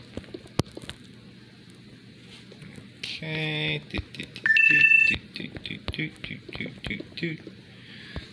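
A smartphone sounds its low-battery alert at 5% charge: a short, fairly loud tonal beep burst in the middle, set among quiet room noise, faint clicks and soft background talk.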